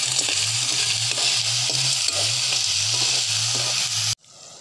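Food is sautéed in a pan while a native Filipino dish is cooked, a steady crackling sizzle with faint stirring scrapes that stops abruptly near the end, leaving a quiet hum.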